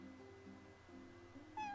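A cat in the video game Final Fantasy XV gives a short, faint meow near the end, over a steady low background hum, with no talking.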